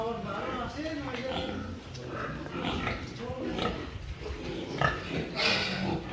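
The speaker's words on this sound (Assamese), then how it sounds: "তাৰে বেছিভাগ গাহৰিয়ে হেম্পশ্বায়াৰ প্ৰজাতিৰ হয়।" Hampshire pigs grunt on a large pig farm with hundreds of animals, with low, rough snorts coming and going at moderate distance, mixed with voices talking nearby.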